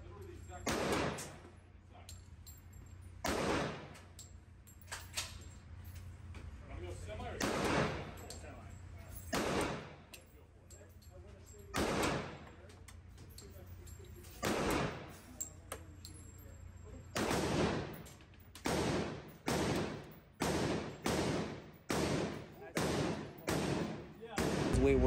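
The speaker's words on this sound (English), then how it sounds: "So I'm going to let you enjoy these last few pistol shots" Pistol shots at an outdoor shooting range, sharp loud cracks fired singly at spaced intervals and then in a faster closing string, with faint background hum between shots.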